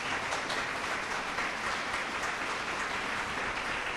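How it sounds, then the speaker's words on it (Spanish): A church congregation applauding during a worship service, a dense, steady wash of clapping from many hands that stays even and sustained throughout, with no clear speech above it. "Aplauda a ese Dios."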